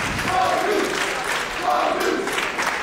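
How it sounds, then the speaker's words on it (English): Crowd at a live wrestling show in Brooklyn cheering and roaring in swelling waves, loud and sustained, right after the opening match's big exchange, with a commentator's voice faintly mixed in. "Listen to the sounds of the crowd here in Brooklyn, loving every second so far"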